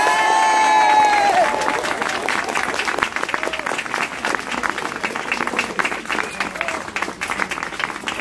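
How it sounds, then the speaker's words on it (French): Audience applause in Montreuil, a hall full of people clapping steadily and loudly for several seconds, with a brief voice and feedback-like tones at the start before the clapping carries on alone. "Je vous propose que nous leur montrions comment nous applaudissons à la Montreuilloise."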